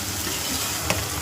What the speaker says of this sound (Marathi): मसाला तळायचा आहे